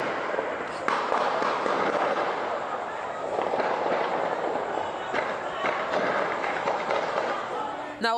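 A neighbourhood shootout: a continuous, dense crackle of gunshots, many rapid reports blending into a steady roar heard from a distance, with a voice speaking over it.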